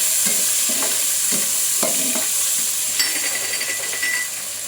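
Tomato goes into hot fish-frying oil with fried onions, giving a steady sizzle and hiss with a few stirring scrapes and clinks of a utensil against the pan.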